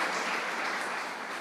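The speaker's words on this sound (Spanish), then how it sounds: "Vamos a darle un aplauso al Señor." Church congregation applauding, a dense, even wash of many hands clapping together at moderate distance, sustained for a moment without a break.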